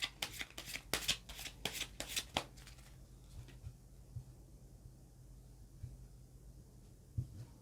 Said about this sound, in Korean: 카드 펼쳐보도록 할게요.